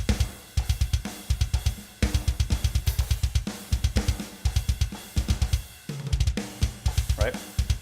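Programmed EZDrummer drum track plays back with extra snare hits added, a tight repeating groove of punchy kicks and crisp snares with cymbals, in short bursts with brief gaps and no talking.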